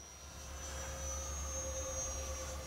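An E-flite A-10 Thunderbolt II RC jet with 64mm electric ducted fans makes a half-throttle pass, a steady distant whine with a sustained tonal hum slowly building in loudness, no voices.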